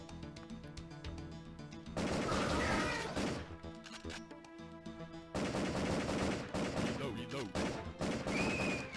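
Gunfire from a PlayStation full-motion-video light gun game, bursts of loud shots and crashes in two blasts over quieter game sound, with no speech over them.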